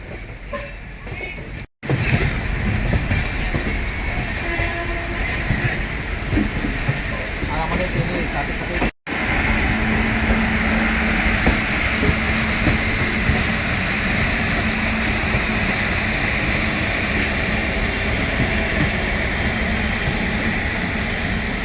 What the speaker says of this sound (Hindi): तो भाई हावड़ा जंक्शन पे अराइव कर रही है ट्रेन अपनी हावड़ा